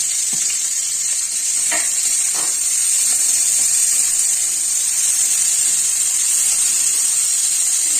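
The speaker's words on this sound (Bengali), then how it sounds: "এবার আমি করলাটা ভাজবো যার কারণে তেল দিয়ে দিচ্ছি তিনটে লঙ্কা ছেড়ে দিলাম" Bitter gourd and three chillies fry in hot oil with a loud, continuous sizzle close by and a few soft stirring knocks early on. No one speaks.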